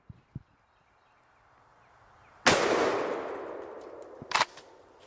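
A single loud shotgun blast from a Keltec KS7 or Radical MK-1 bullpup fired outdoors, with a long rolling echo after it, a few small clicks and handling noises before it, and a sharp action rack near the end.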